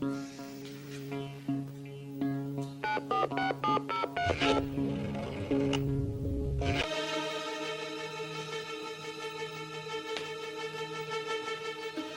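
A quick burst of telephone keypad tones, several short beeps in a row, set against background music that carries on afterward.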